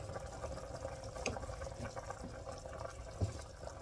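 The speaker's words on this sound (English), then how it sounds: "Alright, we got the boil going" A pot of red beans at a rolling boil on a stovetop, giving a soft, steady bubbling and watery churn at low level, with a few small clinks and knocks against the pot.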